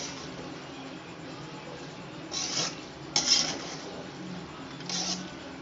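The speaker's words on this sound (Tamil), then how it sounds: "இதை நல்லா கிளறி விட்டு இறக்கிடுவோம்." Pasta with green peas is stirred in a metal pan with a spoon, giving a few soft scraping clinks over a quiet, steady background hiss.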